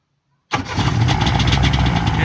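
A small engine, fuel lines and battery just reconnected and primed, catches abruptly from silence and settles straight into a steady, loud, rough running drone with no pause.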